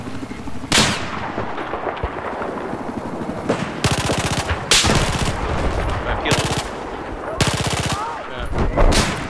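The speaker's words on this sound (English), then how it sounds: "How's the sniper rifle working, Sheriff?" Sniper rifle fire rings out in the Battlefield 4 video game on a Hainan Resort conquest match, with several loud, sharp blasts spaced a second or two apart over a busy, rumbling battle background.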